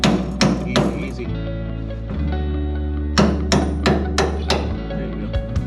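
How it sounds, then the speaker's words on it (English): Hammer tapping a part through a hole while fitting an axle flip kit, several sharp close strikes in two bursts over a steady low engine or machine hum. "Tap it with that hammer just to get it the rest of the way through"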